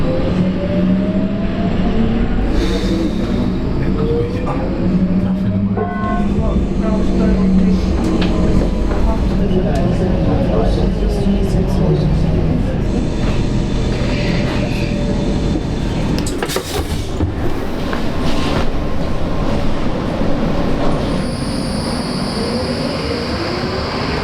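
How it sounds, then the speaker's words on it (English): Riding aboard a Hamburg U1 metro train: a steady rumble of the moving carriage with wheel squeals, rattles and shifting clatter, continuous and close for the whole stretch. "And now I'm going all the way to the city center with this U1"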